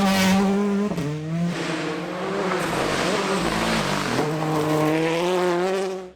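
A Hyundai i20 rally car roars past on a rally stage in Tennessee, its engine note climbing through gear changes with sharp dips between shifts, loud and sustained for several seconds.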